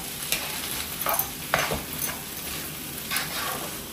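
Vegetable seekh kebab mixture is worked together with chopped coriander and fresh mint in a bowl, producing soft, repeated scraping and stirring strokes at close range, fairly quiet with no voices.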